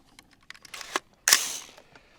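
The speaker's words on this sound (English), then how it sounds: "So we're gonna load up a mag here." Rifle cartridges click into a magazine for a budget AR build, a few small clicks followed by two sharper snaps, close and fairly quiet with no talking.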